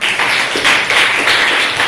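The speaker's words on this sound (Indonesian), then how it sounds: "Tepuk tangan untuk Baratna." A junior high classroom of students breaks into applause for a classmate, a brief burst of dense clapping that stays steady and loud for its whole two seconds.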